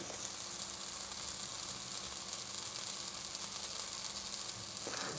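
Egg-in-bread toast frying in olive oil in a pan gives a steady, close, even sizzle that holds unbroken throughout, with no voices over it.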